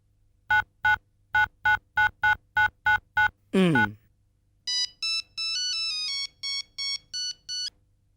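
A string of short keypad beeps, a brief burst of noise, then a melodic electronic ringtone chiming in quick repeated bursts, close and clear.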